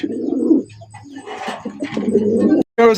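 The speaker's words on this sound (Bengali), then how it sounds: "সিঙ্গেল একটা ব্ল্যাক কালারের বোম্বাই কবুতর দেখতেই পাচ্ছেন" A black Bombay pigeon coos close by in low, throaty rolling calls that repeat, with a brief pause near the end before another coo.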